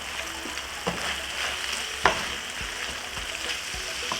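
Liver and onions sizzle in a pan, a steady close frying crackle with a few sharper spatters and occasional stirring clinks, no talking.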